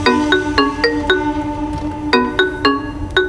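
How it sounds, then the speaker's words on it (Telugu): A phone ringtone for an incoming call plays loudly and alone, a bright repeating chime pattern of quick tonal pulses. "అల్లుడు ఫోన్ వస్తుంది"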